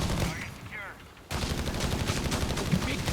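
Company of Heroes 3 battle with an MG opening up, dense crackling machine-gun bursts and overlapping gunfire, a brief lull then a sharp resumption of continuous firing, with voices faintly mixed in.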